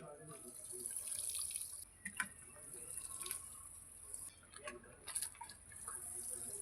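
Water is poured over freshly planted garlic in seed pots, with soft intermittent splashes and trickling drips, quiet and close.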